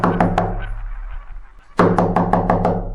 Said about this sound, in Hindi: फिर धीरे धीरे दरवाजे पर किसी ने खटखटाना शुरू कर दिया